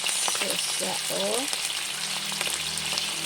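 Dried fish (bulad) frying in a pan, a steady broadband sizzle with scattered pops and crackles, and a few brief voiced sounds near the start, the frying continuing loud and close throughout.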